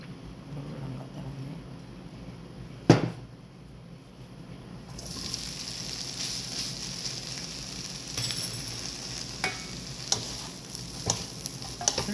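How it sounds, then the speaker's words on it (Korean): Dried pollack and potato fry in perilla oil with a close, steady sizzle. A sharp clunk comes early, and the hiss swells as stirring and occasional light clinks continue. "들기름에다가 넉넉히 넣고 달달달달 달달달달 볶아야 돼요"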